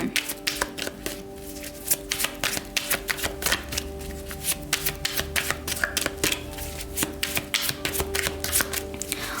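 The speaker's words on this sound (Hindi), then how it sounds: "तो चलिए शफल कर लेते हैं पाइसेस मीन राशि के लिए" Tarot cards being shuffled for a Pisces reading: a dense, close run of crisp riffling flicks and slaps that goes on steadily over a faint background hum, with no talk.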